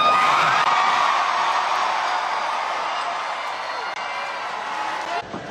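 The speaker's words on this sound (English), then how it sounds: "the crowd went absolutely wild" A large crowd cheers wildly, a dense continuous roar of whoops and shouts filling the whole stretch, loud and steady before dropping off sharply at the end.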